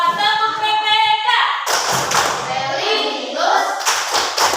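Schoolchildren in a classroom perform a rhythmic clapping chant, tepuk PPK, sharp hand claps and taps mixed with children's voices chanting in time, close and lively.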